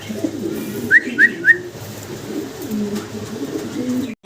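King pigeons at a Bangladeshi pigeon seller's stall give three short rising calls close together, heard over a low steady background hum with no talking.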